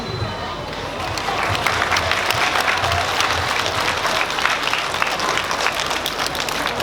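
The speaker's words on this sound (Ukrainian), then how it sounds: "Не шкодуйте оплесків, розминайте пальці, натирайте долоні" A crowd at the award ceremony of the Kryshtaleva Grona festival breaks into sustained, dense applause that swells after a quieter start and holds steady for several seconds, loud and full, with faint voices beneath.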